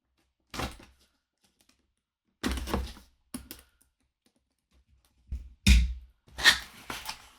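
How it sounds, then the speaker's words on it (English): Blade cutting through the seal tape on the box of a Dell Latitude 7030 Rugged Extreme tablet, heard as several short, close scraping and slitting bursts separated by silent pauses. "Let's go ahead and cut the seal."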